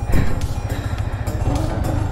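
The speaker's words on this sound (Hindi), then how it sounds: "एक ही बार में बाइक ऑन हो गया है अपने से" A Hero Splendor motorcycle engine idling after starting, a close, loud, steady low-pitched putter with a rapid regular pulse throughout.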